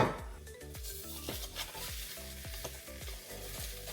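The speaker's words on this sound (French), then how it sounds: "ma belle omelette qui est en train de cuire" An omelette sizzles steadily in a frying pan, a close, continuous crackle with a rhythmic, repeating low thumping beneath it.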